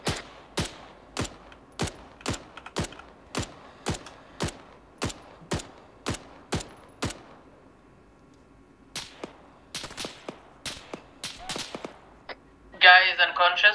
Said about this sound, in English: Shots east.